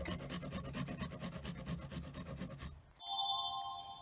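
Mint and garlic being ground into butter paste for a roast turkey: a steady rhythmic rasping rub for about three seconds, close and quiet, then it stops and a high electronic tone takes over.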